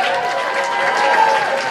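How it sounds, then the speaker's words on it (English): Audience claps for a female singer at a music week showcase, a short burst of steady, fairly loud applause from a crowd, with a faint tonal hum beneath. "Give her a big round of applause."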